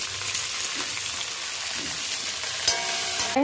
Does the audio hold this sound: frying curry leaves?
yes